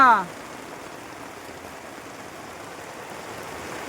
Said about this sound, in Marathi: लय भरपूर पाऊस लय भरपूर पाऊस